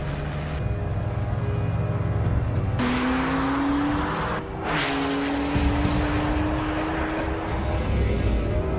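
A rear-engined Porsche 911 Carrera sports car drives by, its engine note climbing steadily through the gears, loud and close, with a brief swell of tire and wind noise midway.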